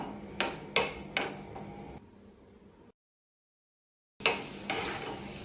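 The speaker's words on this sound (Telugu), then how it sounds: "నెయ్యి వేడయ్యాక ఇప్పుడు దీంట్లోకైతే డ్రై ఫ్రూట్స్ వేసుకోవాలి నేనైతే జీడిపప్పు కిస్మిస్ అయితే వేస్తున్నాను" Cashews and raisins fry in hot ghee in a pan, giving close metallic clacks from a spoon against the pan over a soft sizzle. The clacks stop, a short silence follows, and then the clacks start again.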